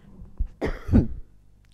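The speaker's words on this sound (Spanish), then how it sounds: "recién que me agarró una tos" A single short cough with a throat-clearing quality from a woman during a studio interview, close and clear against a quiet room, preceded by a faint breath.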